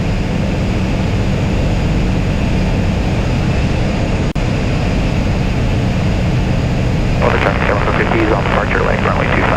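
Small airplane in flight while setting up in the landing pattern, a loud, steady engine and wind drone filling the cabin, with a brief click near the middle and rising hiss toward the end.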